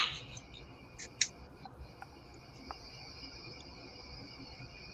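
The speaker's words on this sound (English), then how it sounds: "It's a lot of crickets." A dense chorus of crickets chirping, a continuous high trilling held faintly in the background, with a few soft clicks and taps near the start and no talk.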